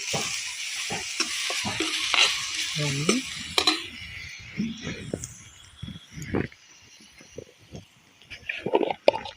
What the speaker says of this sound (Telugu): బాగా పచ్చి వాసన పోయేంత వరకు వేగుతూనే ఉండాలి చూడండి ఆయిల్ చాలా తక్కువే పట్టిద్దండి